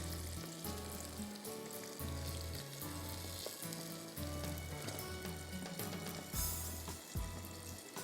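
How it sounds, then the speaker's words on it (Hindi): Spicy battered nuggets frying in hot oil, a steady dense sizzle that continues throughout, close and even, with a low rhythmic hum underneath and no voices. "स्पाइसी नगेट्स को फ्राई करके जा रहे हैं"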